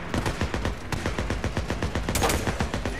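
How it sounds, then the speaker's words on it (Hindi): Rapid machine gun fire rattles in dense, continuous bursts of sharp shots from the Days Gone video game, loud and close. "ओहो मशीन गन है"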